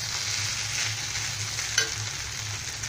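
Mixed vegetables for veg triple Schezwan rice stir-frying over a high flame, a steady close sizzle with a soft low hum and one brief sharp clink of a utensil partway through.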